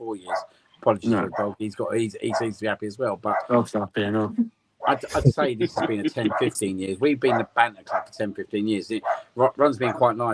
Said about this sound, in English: Apologies for the dog. He seems to be happy as well.